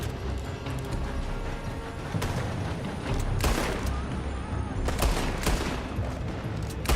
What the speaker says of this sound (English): They're shooting from that building.